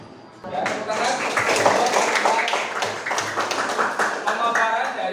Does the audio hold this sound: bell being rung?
no